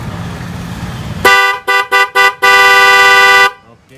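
Black Velocity Power car horn fitted to a 2022 Alto K10, blasting close and loud: one long tone, three short toots, then a sustained blare of about a second.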